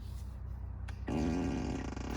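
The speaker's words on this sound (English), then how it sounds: "Fart on turn signal." A Tesla Model 3 plays a novelty fart sound effect on its turn signal, a loud, close, raspy burst that swells about a second in and keeps droning over steady cabin hum with no talking.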